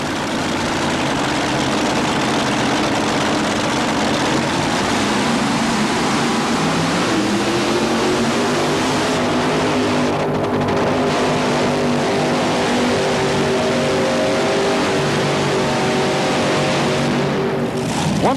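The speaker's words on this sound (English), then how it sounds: "The Macon Bacon Special here is powered by 5 Rodeck engines, built right here in Louisville" The Macon Bacon Special dragster, powered by five Rodeck engines, rumbles loud and steady at a heavy idle, its deep drone rising slightly in pitch partway through and holding there.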